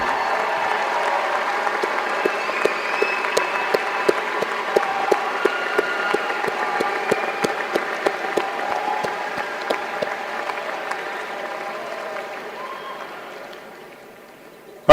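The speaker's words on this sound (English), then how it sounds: "let's give them a round of applause because they deserve everything they get" Sustained applause from a large crowd at a high school graduation ceremony, honoring teachers, a dense steady wash of clapping in a big hall that thins and fades out toward the end.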